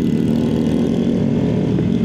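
Idling motorcycle engine at a Distinguished Gentlemen's Ride gathering in Penang, a steady low rumble held throughout at close range, with no voices over it.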